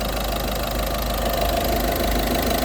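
A 1.6 e-HDi diesel engine of a 2012 Citroen C4 Grand Picasso with automatic transmission idles steadily nearby, a low continuous rumble with a faint rhythmic knock and no voices.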